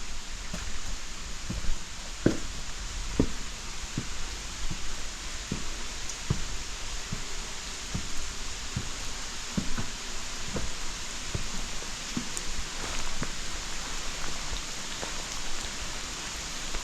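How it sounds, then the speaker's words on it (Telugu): Heavy rain falls steadily in a cave garden in Meghalaya, a continuous wash of noise broken by scattered louder drips and drops landing close by. "ఫుల్ వర్షం పడుతుంది."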